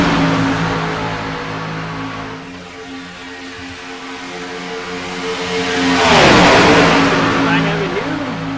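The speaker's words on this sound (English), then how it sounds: "Jason, why don't we say we take it to the sounds of iRacing for a few minutes?" Race car engines in the iRacing video game at Talladega, a steady droning blend of several cars at high revs, swelling louder as a pack sweeps close, with falling pitch as they pass.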